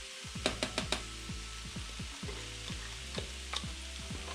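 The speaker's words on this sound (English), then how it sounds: "it does say to mix this in with a fork, so that's what I'm doing" Food gets mixed in a hot pan with a fork for garbage plates, a soft continuous sizzle broken by a quick run of sharp clinks early on and a few more taps later, close but fairly quiet, with a low hum underneath.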